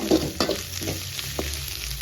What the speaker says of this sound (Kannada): ಶುಂಠಿ ಬೆಳ್ಳುಳ್ಳಿ ಪೇಸ್ಟ್ ಹಸಿ ವಾಸನೆ ಹೋಗೋವರೆಗೂ ಸ್ವಲ್ಪ ಫ್ರೈ ಮಾಡ್ಕೊಳ್ಳೋಣ